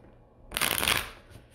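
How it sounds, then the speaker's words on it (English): Domain cards for the Valeria Card Kingdoms tabletop game being shuffled, a single close, crisp riffling burst lasting about a second after a quiet start, then trailing off. "Shuffle all the domains."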